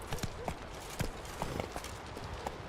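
Hooves of a horse running in The Witcher 3 video game give faint, irregular clip-clop thuds over a noisy background of game sound.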